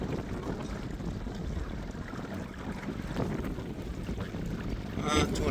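Small Mercury 3.5 outboard motor pushing a Quest Angler 10 boat at low cruising speed, a steady low drone mixed with wind buffeting the microphone and water slapping the hull, with a brief louder splash near the end.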